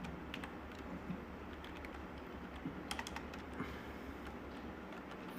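Computer keyboard typing while writing HTML form code in a code editor: close, quick irregular key clicks with brief pauses and a few louder taps, no talk.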